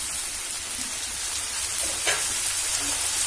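Onion, garlic and ginger paste spices frying in a pan with a little water added, a steady close sizzle and bubbling with a brief stir near the middle, no talking.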